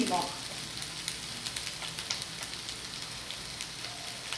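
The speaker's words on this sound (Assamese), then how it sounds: "এতিয়া হাই ফ্লেমত এই চব্জিখিনি অলপ সময় ভাজিব।" Vegetables for chowmein fry over a high flame, giving a steady, close, crackling sizzle that carries on throughout with small bursts of spitting oil.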